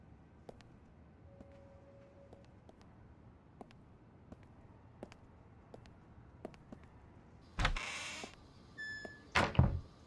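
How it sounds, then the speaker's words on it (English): Knocking on a door in the video game Unheard: faint, scattered taps over a quiet room tone, then two louder, heavier knocking bursts close together near the end. "Who's that knocking?"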